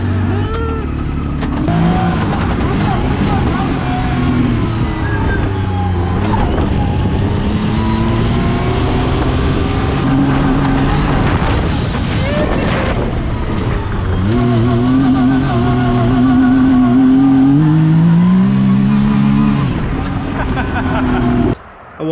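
A Yamaha YXZ1000R side-by-side on new wheels and tires drives through a neighborhood, its engine droning and revving steadily up close throughout while a voice talks over it.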